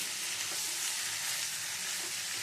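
Vegetables frying in a pan for a home-style veg recipe give a steady, close hiss of sizzling oil, with faint scraping of stirring underneath and no talk.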